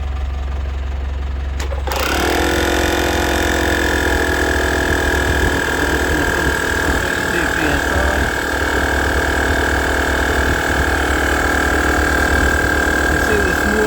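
A Halfords Rapid digital tyre inflator switches on after a short pause and runs loud and steady, a constant buzzing motor drone with a strong steady whine held close up to the end.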